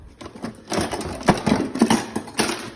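A kitchen blender chopping partly frozen meat for lasagna, giving uneven grinding and knocking bursts in short irregular pulses, loud and close, with no talking.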